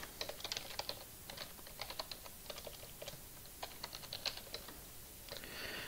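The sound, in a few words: typing on a computer keyboard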